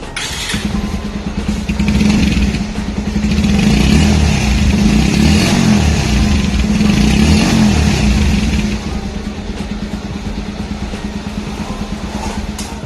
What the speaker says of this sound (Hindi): आइए एक बार इस बाइक के एग्जॉस्ट की आवाज़ सुनते हैं